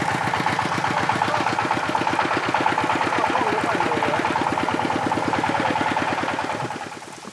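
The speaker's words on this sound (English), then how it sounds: "Its backfire resounds throughout the mountains." A homemade truck engine built by its driver chugs loudly and steadily in a mountain setting, with a fast rhythmic thumping pulse that holds throughout before easing off near the end.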